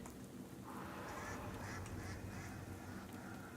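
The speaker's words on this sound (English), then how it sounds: "Haunting Quack." An eerie, haunting duck quack from the video game Shadows Over Loathing, a few faint drawn-out quacking calls over a steady noisy background.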